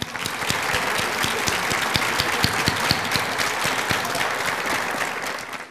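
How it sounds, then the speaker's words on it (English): A dinner crowd at an institute event claps in a steady, sustained ovation, dense and even from start to finish with a few sharper individual claps standing out near the front. "I'll ask to give it a big round of applause"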